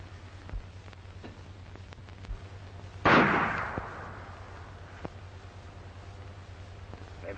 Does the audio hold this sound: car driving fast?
no